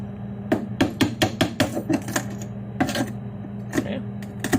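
Sharp cracking knocks from a hammer striking ice in a tray, irregular bursts of several hits with pauses, close by and fairly loud.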